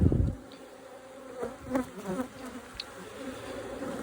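A steady low buzzing of honey bees close by at a multi-queen micro nuc hive, rising and falling slightly as individual bees pass, with a brief thump at the start.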